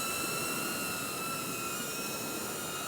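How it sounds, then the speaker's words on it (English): A Hover X1 Pro camera drone flies over water, its steady high-pitched motor whine holding constant tones throughout, fairly faint and continuous with no voices. "Right, I'm going to turn the drone."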